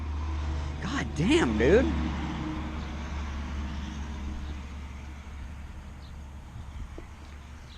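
A truck rumbles past on the road, a low steady engine drone that swells and slowly fades, with a voice speaking briefly over it early on.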